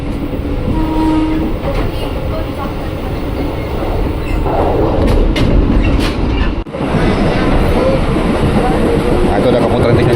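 A KRL commuter train runs from Bojonggede toward Bogor, its loud rolling rumble and rail clatter filling the carriage, with a brief horn blast and a momentary dip midway.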